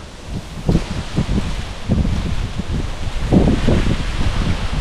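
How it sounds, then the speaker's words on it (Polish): Strong outdoor wind buffets the microphone in steady low rumbling gusts, with rustling underneath that swells and eases across the stretch, loud and close throughout with no talking. "Ale jest naprawdę wichura"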